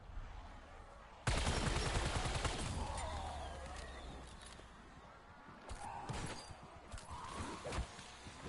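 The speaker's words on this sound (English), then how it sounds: "Arming C4. Detonating C4." A C4 charge detonates in a video game: a sudden loud blast that rolls into a long, crackling rumble with scattered debris and gunfire-like pops trailing off as the noise fades.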